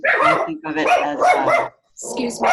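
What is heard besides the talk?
dog barking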